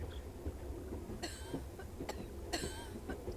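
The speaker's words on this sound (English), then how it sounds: "Dr. Clark, Father, Mother is having a terrible coughing fit." A woman in a video game has a coughing fit: a few sharp, quiet coughs spaced out over a faint background hum.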